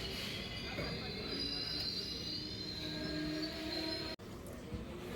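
An express train at Balasore station in Odisha, with a continuous loud rumble and high metallic wheel squeal filling the clip and a brief dropout near the end.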